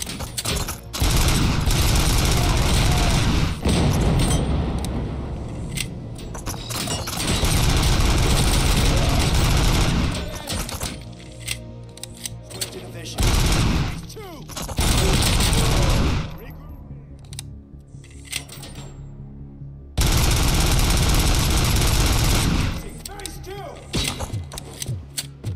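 Sustained bursts of loud automatic gunfire from a weapon in the video game RoboCop: Rogue City, heavy rapid volleys broken by short pauses and thumps, with game engine hum between bursts.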